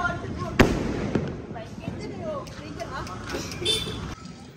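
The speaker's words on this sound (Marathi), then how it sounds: "आणि आता आयटम बॉम्ब फेकतो." A firecracker bomb goes off during a Lakshmi Puja celebration in a village, one sharp loud bang early on, followed by smaller pops amid street noise and crowd chatter, with a person talking nearby.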